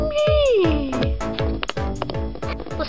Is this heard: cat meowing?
yes